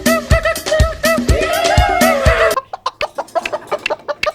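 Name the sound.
hen clucking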